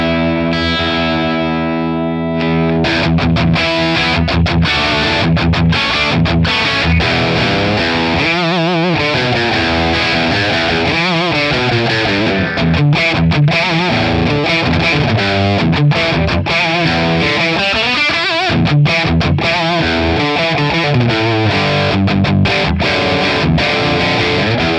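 An electric guitar plays through a Friedman PLEX amp capture, distorted and continuous, with sustained chords and riffs filling the whole stretch alone.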